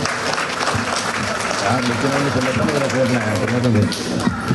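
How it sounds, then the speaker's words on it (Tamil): A crowd at a Vinayagar temple event in Canada applauds Hari with a sustained wash of clapping, dense and fairly loud, while a voice speaks over it. "ஹரி ஐயா அவர்களுக்கு உற்சாகமான கரகோஷத்தை வழங்கி"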